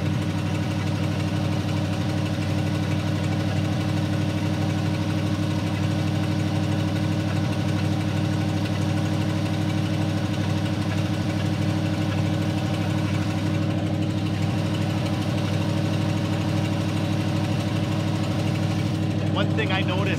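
A Ford flathead V8 with an automatic choke and a holed radiator idles steadily close by, a low, even rumble with a faint knock running unbroken for the full twenty seconds.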